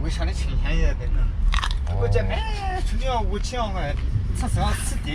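A crisp bite into a crunchy plum, followed by crunching and chewing, while a person talks over it.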